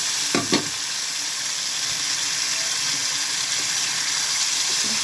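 Egg with tomato frying in a pan, giving a steady, even sizzle that fills the whole stretch, with a couple of brief knocks or stirs near the start.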